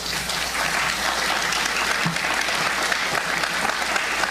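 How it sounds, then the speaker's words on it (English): A crowd claps continuously and steadily, a dense wash of hand claps filling the room without a break. "I'll say hold your applause for the end"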